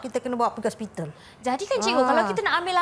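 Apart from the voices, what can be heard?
No distinct noise like a dog, phone or traffic.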